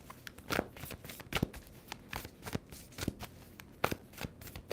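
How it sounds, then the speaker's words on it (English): A deck of tarot cards is shuffled close by in a series of quick, crisp riffling bursts and taps, irregular but continuous over several seconds, with no talking. "Two more shuffles for Leo."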